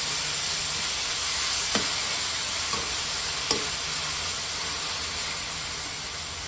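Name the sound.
frying fenugreek leaves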